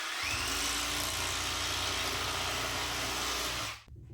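A DeWalt 12 volt power tool runs close up in a steel fabrication shop, giving a steady, loud motor whine for several seconds before it abruptly cuts off.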